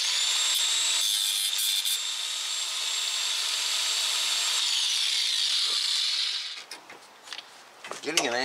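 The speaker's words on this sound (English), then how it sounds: "Yeah, we're gonna have to cut that stud off." A high-pitched cutting whine runs steadily for about six seconds while a ball joint stud is cut off a 2007 Tacoma 4x4 on the street. Clanks and a brief voice follow at the end.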